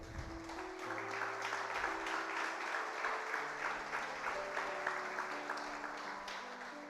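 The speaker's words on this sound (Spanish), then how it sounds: "Denle un aplauso al Señor." A church congregation claps steadily in a dense, sustained round of applause, with a voice and musical tones faintly carrying underneath.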